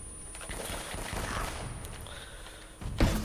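Gunfire in Uncharted: Drake's Fortune as enemies with sniper rifles attack, a steady clatter of game shots and impacts ending in one louder burst.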